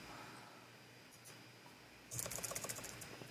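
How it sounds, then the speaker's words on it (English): Typing on a computer keyboard during note-making software use: a quiet run of soft, rapid key clicks beginning partway through, faint and close over low background hiss. "If I come here and start typing,"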